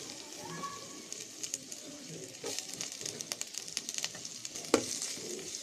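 Green chillies and sliced onion fry in oil in a kadai, giving a soft, fairly faint crackle with scattered sharper pops and a few stirring clicks.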